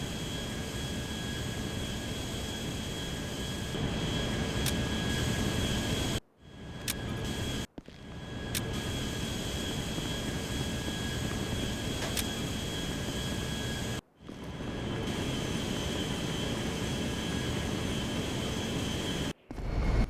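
A steady airplane engine drone in GTA 5 hums loud and continuous, broken by a few brief cuts to silence.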